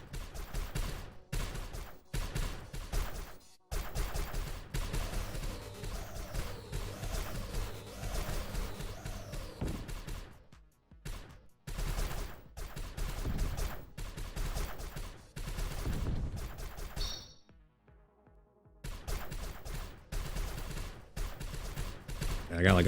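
Rapid automatic machine gun fire in a roguelike shooter game, sustained dense bursts with a couple of brief pauses, loud and up front over a busy game mix.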